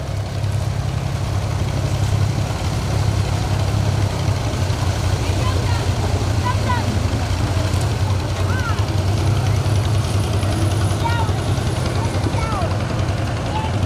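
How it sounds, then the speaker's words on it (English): A vintage 1947 John Deere M tractor runs in an Old Settlers Day parade, its steady low engine throb continuous and fairly close. An announcer talks over it and faint crowd sounds sit in the background. "Following Trent is a 1947 John Deere M tractor driven by Wyatt Helmer."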